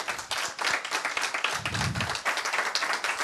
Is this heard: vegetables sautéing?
no